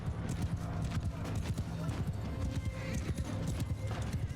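Horses gallop in a cavalry battle in Mount & Blade II: Bannerlord, a rapid, continuous drumming of hooves with an occasional whinny, while someone talks over the action.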